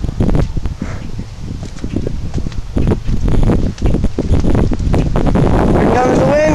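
Strong wind roars and buffets the microphone as a tornado approaches, loud and gusty throughout, with people talking over it outdoors.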